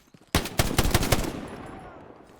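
In the video game Hell Let Loose, a rapid burst of about five loud gunshots cracks out after a brief quiet start, then the echo trails away into a fading tail.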